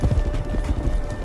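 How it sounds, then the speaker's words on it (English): Horse hooves thudding in a quick, continuous rhythm as riders cross desert sand, loud and close with no voices. "their horses cutting paths through the sands"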